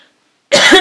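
After half a second of near silence, a woman lets out a single loud, harsh cough close to the microphone, abrupt and rough with a throaty edge.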